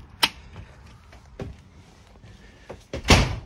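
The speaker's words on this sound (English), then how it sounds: "It's as simple as opening up your door." A vehicle door with an off-grid battery setup is opened, giving several sharp clicks and knocks of the latch and handle, ending with a louder thud and rattle as the door swings open.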